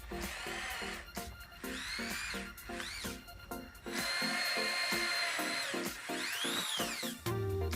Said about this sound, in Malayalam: ഈ മാർക്ക് ചെയ്ത സ്ഥലത്ത് നമുക്ക് ഡ്രില്ല് വെച്ച് ഹോൾ ഉണ്ടാക്കാം.